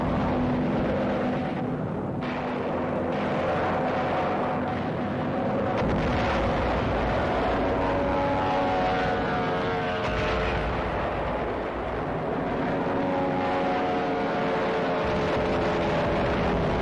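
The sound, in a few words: fighter and bomber aircraft flying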